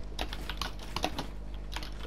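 Rapid, uneven keystrokes on a computer keyboard, a steady run of close, crisp clicks with no talking.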